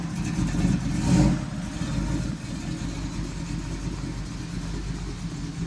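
A 1986 Oldsmobile Cutlass engine revs once, rising sharply and then settling into a steady, rumbling idle that carries on for several seconds, close and loud with no voices.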